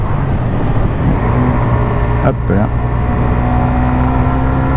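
A Suzuki GSX-R 125cc motorcycle is ridden on the road, its engine a steady, fairly quiet hum beneath heavy wind rush, while a rider speaks briefly.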